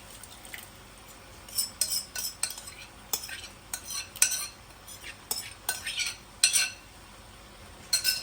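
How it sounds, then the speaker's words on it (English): Spoon stirring salsa into browned chili mix in a pot, a run of scraping, clinking strokes against the metal that come and go irregularly, close and moderately loud, with no one talking. "Now, I'm going to add the salsa."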